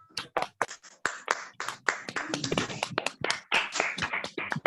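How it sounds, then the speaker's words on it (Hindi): A small crowd applauds a student at a graduation ceremony, irregular claps and taps from a few pairs of hands, fairly close and brisk, continuing for several seconds with no talking. "जोरदार तालियां एंजल साहू के लिए एक और बार।"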